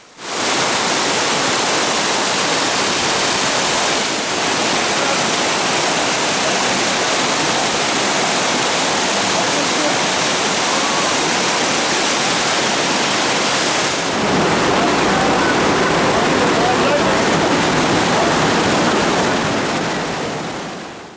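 Water surging heavily through a canyon at Olukbaşı, a loud, dense and unbroken roar of rushing flow close by that carries on without a break for the whole stretch, with no talking.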